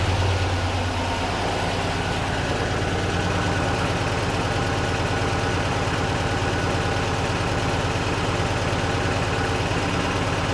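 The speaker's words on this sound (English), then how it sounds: "It's idling real nice." A 1974 VW Bus engine with dual Weber carburetors idles steadily and loudly close by, with an even low rumble and rhythmic chug, running continuously without change.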